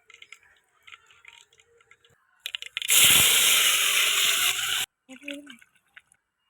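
Spices for tempering hit hot oil in a clay pot on a wood-fired stove, giving a sudden loud sizzle lasting about two seconds, framed by small clinks and splashes before and after.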